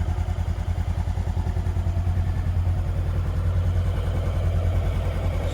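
A vehicle engine idles steadily while being preheated, a low rhythmic thrumming pulse close by with a faint clatter on top, running evenly throughout without talk.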